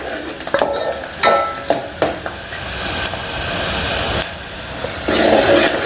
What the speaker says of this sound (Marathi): कढीपत्ता टाकते कांदा सोनेरी कलरवर होऊ द्यायचा